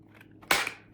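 A blade scores a Kydex plastic sheet in one sharp, close scrape, brief and crisp, with a faint scratch just before it.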